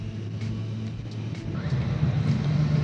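Triumph Street Triple 765 R motorcycle, restricted to 35 kW, ridden at around 60 km/h in fifth gear: a steady engine drone with wind rumble that grows slightly louder toward the end, no talking.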